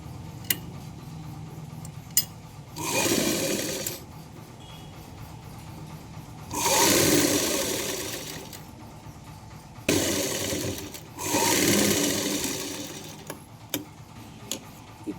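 A sewing machine stitches a folded inner seam on a lined blouse in three separate runs of about a second or two each, with quiet pauses and light clicks between them.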